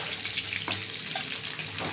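A brief, even hiss of food frying in oil, constant and close with no talking.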